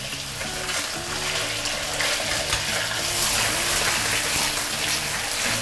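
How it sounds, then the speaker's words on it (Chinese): Gutted crucian carp sizzles in a pan of home-rendered mutton fat, a dense, steady crackling hiss heard up close with no talking. "我们在做这个鱼的时候，一定要给它煎一下，这样你的汤才会更加的白。"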